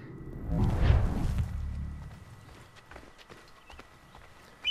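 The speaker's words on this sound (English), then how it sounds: "I think we can call a horse?" Hooves clatter briefly as a horse arrives in the video game Assassin's Creed, a close burst of clip-clop that fades into quieter ambient game sound.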